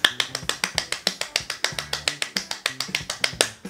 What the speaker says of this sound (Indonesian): mulai deh kita tepukkan kedua tangan kita